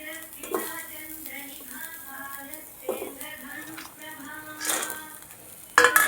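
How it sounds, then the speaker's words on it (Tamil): Nuts, raisins and coconut strips roasting in ghee in a pan for carrot sago payasam: a spoon gives a few sharp clinks and scrapes against the pan, with a voice talking throughout. "எல்லா நட்ஸையும் சேர்த்து வறுத்து எடுத்துக்கலாம்."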